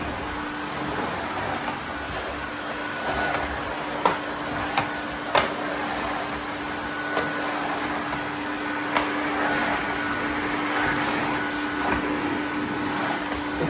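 A vintage Nilfisk GS90 cylinder vacuum cleaner, 700 watts, runs on carpet with a steady, loud motor whine and airy rush, with a few sharp clicks and knocks from the nozzle.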